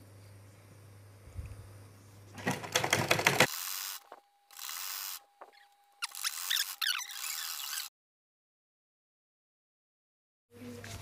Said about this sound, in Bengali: এখানে আমি চাপ সেলাই দেব। দেওয়ার পরে এখন আমাকে সেলাইটা বরাবর দিতে হবে